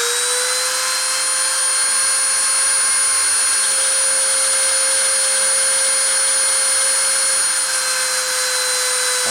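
A printer spindle whirs at a steady speed, giving a continuous high, tonal whine with bright overtones that stays level throughout, close and fairly loud with no talk.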